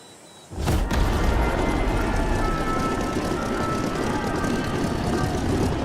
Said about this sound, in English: Immediate takeoff.